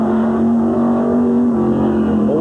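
A late model stock car races at Midvale Speedway, its engine a loud steady high drone held close and constant, shifting slightly in pitch near the end.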